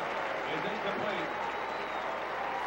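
Stadium crowd at a 1999 Miami vs Pittsburgh college football game applauding the Pitt defense, a steady wash of distant cheering and clapping under an announcer's voice.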